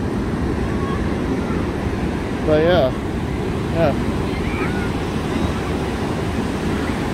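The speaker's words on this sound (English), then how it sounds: "Thought we'd come out to the ocean today." Ocean waves and wind at Cannon Beach form a steady, loud roar of surf with wind buffeting the microphone, continuous throughout, while a person briefly talks over it.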